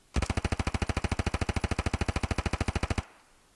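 Full-auto gunfire in Standoff 2: a steady, rapid stream of about thirty close, loud shots in an even rhythm, stopping abruptly after roughly three seconds with a short fading tail.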